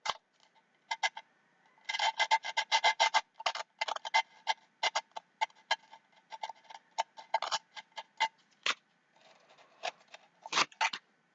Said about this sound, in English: I'm just taking a little bit of the sandpaper to the rust on the top.